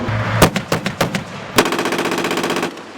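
A 25 mm M242 automatic cannon on a Bradley M2A2 ODS infantry fighting vehicle fires, first several separate heavy shots, then a fast sustained burst of rapid fire, loud and close.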